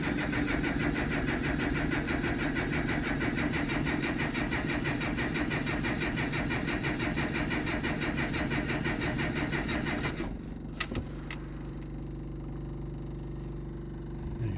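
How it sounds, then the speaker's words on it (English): Datsun engine cranking repeatedly without catching, a steady rhythmic starter churn for about ten seconds, then a quieter hum with a click, close and alone. "You'll crank it over. It won't start"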